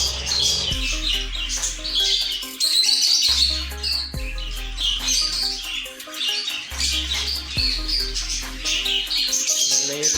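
Budgies in a breeding cage chirp and squawk continuously in a dense, busy chorus, with a low repeating hum running underneath.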